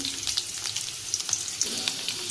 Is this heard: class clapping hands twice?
no